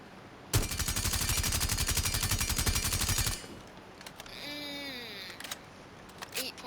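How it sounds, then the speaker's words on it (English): Rapid automatic gunfire from Striker's weapon in the video game Rainbow Six Siege, a loud sustained burst of about three seconds followed by fainter mechanical clicks and rattles. "Basically, Striker's gun, I think. Let's try out fire rate."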